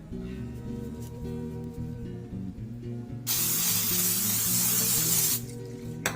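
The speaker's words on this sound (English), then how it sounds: "the steamer basket here should be sprayed with a, like what I use is like the Pam extra virgin olive oil spray" A loud hiss of extra virgin olive oil cooking spray onto a steamer basket lasts about two seconds midway, with steady music playing underneath throughout.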